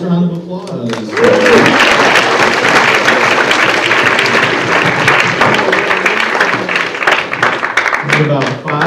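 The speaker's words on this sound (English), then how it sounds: "let's give one last round of applause." Audience applause at a livestreamed high school Writers Week event, a dense, loud wash of clapping sustained for several seconds, with brief voices at the start and end.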